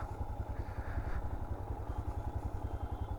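A motorbike rides along a road near Pawna Lake, its engine putting out a steady low, pulsing throb with faint clatter, continuous and fairly close, with no talking over it.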